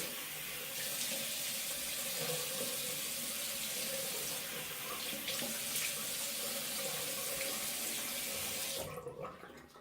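Warm tap water runs steadily into a sink while a face is rinsed, a constant close hiss with small splashing changes, cutting off abruptly near the end.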